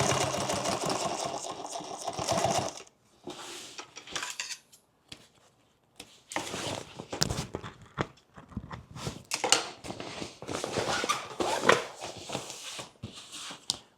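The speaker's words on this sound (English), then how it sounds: "I'm over sewing everything twice and cutting out stitches that deviate a little bit" An industrial sewing machine stitches contrast-color seams through ballistic nylon on a duffle bag, running in short mechanical bursts separated by brief pauses and silent gaps.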